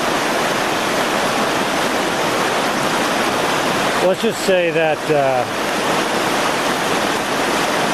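Rushing water of a creek, a loud steady broadband roar filling the whole clip, with a voice speaking briefly over it midway.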